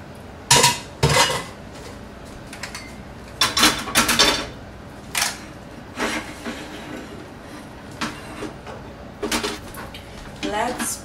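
Pans and dishes clatter in sharp, scattered bursts as spicy peanut soba noodles with zucchini linguine, chicken and sauce are scraped and moved into one dish. The metallic knocks are close and separated by quiet stretches.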